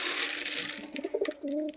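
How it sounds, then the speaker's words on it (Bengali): Pigeons gather to feed. A short, quiet burst of soft fluttering and shuffling ends in a brief, low cooing call. "দেখো এখানে অনেক কটা কবুতরই চলে এসেছে তো খাওয়া দাওয়া করছে"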